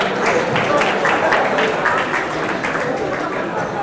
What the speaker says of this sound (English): Is the applause for me or for the people who caught the tennis balls?